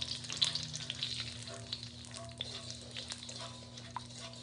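Chicken breast with holy basil and lemongrass spices caramelizing in a hot pan, giving a steady low sizzle with occasional soft pops and faint stirring scrapes, fairly quiet and continuous with no talking.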